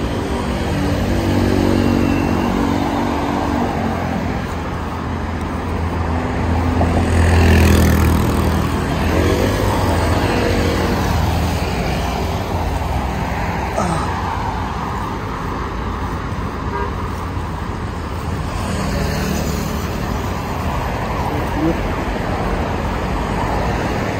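Steady roadway traffic on EDSA in Manila, with cars and motorcycles streaming past in a continuous loud rumble and occasional swells as nearer vehicles go by, no talk.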